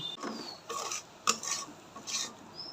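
Water lily stems cooking with mustard in a pan are stirred and scraped with a utensil, producing a series of short, close rasping strokes over a faint frying hiss, with no talking.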